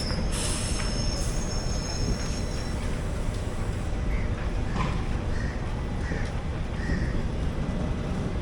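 A local train rolls past on the adjacent line, a steady heavy rumble with thin metallic wheel squeal near the start, heard from aboard a nearby train, while a few crows caw faintly.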